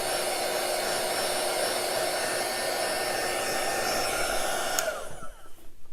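A heat gun blows with a steady, loud airy whoosh and hum, then switches off and winds down near the end.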